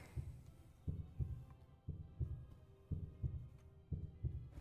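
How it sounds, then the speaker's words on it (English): A steady, close heartbeat sound effect thumps in regular paired beats, about six lub-dub cycles, low and muffled over a faint hum. "Heartbeats are going."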